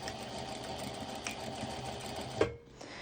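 A sewing machine stitches a seam on a sporty color-block top, running as a steady close whir that stops abruptly near the end, leaving a quiet tail.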